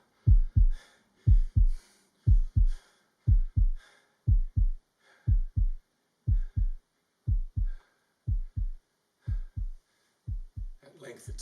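A muffled heartbeat thumps steadily in low, dull double beats, about a dozen pairs in a slow, even rhythm, close and prominent with faint background noise between beats.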